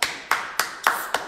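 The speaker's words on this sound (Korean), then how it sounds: "박수!" Hands clap in a short sequence of about six sharp, evenly spaced slaps with quick decays, close and fairly loud, with no talking during the claps.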